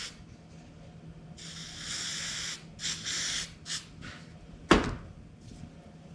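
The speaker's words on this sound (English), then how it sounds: "we're gonna go ahead and use a little bit of this silicone spray from CRC" CRC silicone spray hisses onto a brake booster part from a 1958 Plymouth Kelsey Hayes brake booster in short bursts: one long spray, then a few shorter puffs, followed by a sharp clack.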